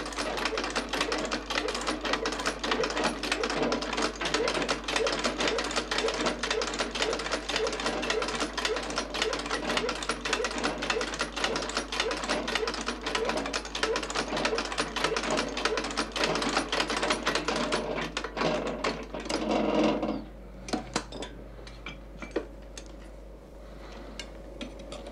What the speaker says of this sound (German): Auf der Nähmaschine steppt Josef Esser zuerst die Hinterteile des Oberleders an der Stelle, wo er sie vorher zusammengeklebt hat